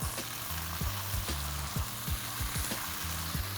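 Carrots, onion and cabbage being tossed and stir-fried in a hot pan for crispy chilli baby corn, loud close sizzling broken by repeated rhythmic scraping and clattering tosses, no talk.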